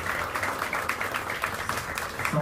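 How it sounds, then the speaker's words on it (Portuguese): An audience applauds to welcome guest performers at a music show: a steady, dense patter of many hands clapping, moderately loud and continuous, with no voices on top. "Por favor, uma salva de palmas."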